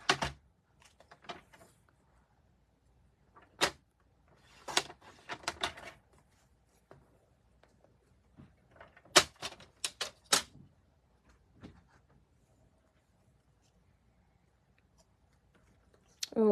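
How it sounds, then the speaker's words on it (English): Paper being trimmed for a card-making template, heard as sharp scattered cutting snaps and clicks with quiet gaps between them, close by, while a person talks softly in the background. "I'm going to trim this a little bit really quick."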